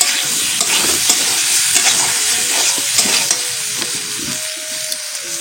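Peeled boiled potatoes frying in oil with salt and turmeric, stirred in a pan in a home kitchen; a close continuous sizzle with repeated spatula scrapes and clinks, and no talking.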